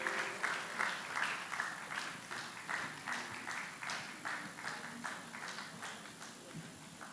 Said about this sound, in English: Please keep clapping as he comes over to the podium.